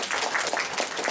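Audience applause for a speaker named Daniel at a motivational talk, a dense, steady wash of many hands clapping that fills the room without pause.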